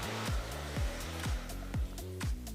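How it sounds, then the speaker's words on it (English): A hair dryer blows on a hair system (hairpiece) during styling: a steady, close rush of air that swells and dips in a regular rhythm, about five passes as the dryer sweeps back and forth. No voices. "you will blow dry one way over like this, and then you blow dry in the opposite direction"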